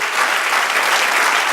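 A dense, even burst of congregational applause fills a church service, steady and fairly loud throughout the short stretch with no clear voices on top.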